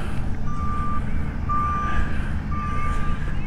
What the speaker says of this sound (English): hard to get anything done with the beeping going on.